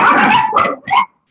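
Puppies bark in quick succession, three sharp close yips in a short burst that ends abruptly in silence.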